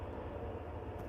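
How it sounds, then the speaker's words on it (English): Train passing near a frozen lake during ice fishing for rainbow trout, a steady low rumble and roar that fills the short stretch without breaks. "Trains coming by now."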